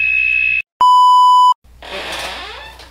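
An electronic alarm sounds one loud, steady beep of under a second, with a high tone just before it and background noise after, and no speech.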